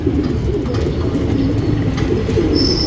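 Breeding pigeons cooing steadily in a loft, a dense low murmur of overlapping coos from several birds close by, continuous throughout with no talking.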